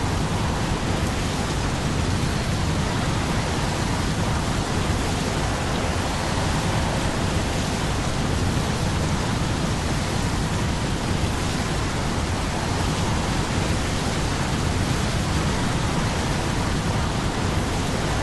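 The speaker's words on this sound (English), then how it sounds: "Tornado." Tornado disaster roaring through downtown in the Tropico 5 city-building game: a loud, steady, dense rush of wind-like noise that holds unbroken and alone throughout.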